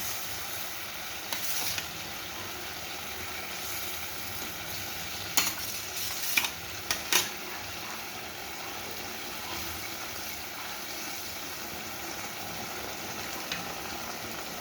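Pieces of pomfret fish frying in a pan of mustard gravy, giving a steady low sizzle and bubbling, with a few brief scraping clicks from a utensil near the middle and no voices.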